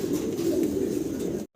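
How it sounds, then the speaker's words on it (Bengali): Black checker exhibition pigeons coo in a low, continuous rumbling murmur, close and steady for over a second before breaking off abruptly. "দুইটা কবুতর পাশাপাশি দাঁড়াইছে"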